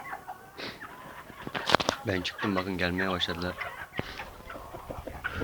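Mother hens and chickens cluck in a farmyard coop, close and intermittent, with someone talking over them throughout.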